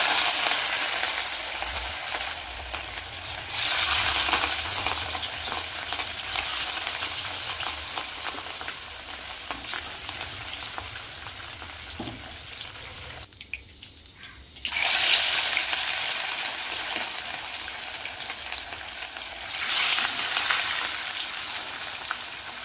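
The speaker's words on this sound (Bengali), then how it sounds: "একে একে মাছগুলো ভেজে নেবে" Pieces of catla fish frying one after another in hot oil, a loud continuous sizzling hiss that drops briefly and surges again as pieces are added or turned, close by with no talk.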